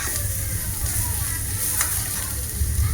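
Ground masala paste for a mushroom gravy fries in a pan with a dense, continuous close-up sizzle, with light stirring noises but no talk.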